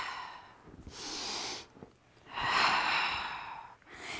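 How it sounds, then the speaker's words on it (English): A long, breathy exhale during a Pilates roll-back, following an earlier shorter breath, close and clear with no talking. "Exhale."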